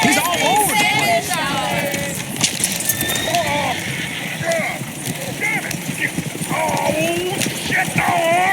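Horses trot and run with rapid clip-clopping hooves in a Red Dead Redemption 2 town scene, with a whinny, a coach moving about and people talking over the hoofbeats.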